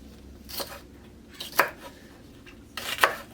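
A knife cuts through half of a big red onion on a board: three separate crisp chopping strokes spaced about a second apart, close and fairly quiet, with no talking.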